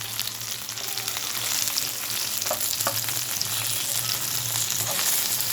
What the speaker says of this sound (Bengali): মাছ ভাজি হয়ে যাচ্ছে।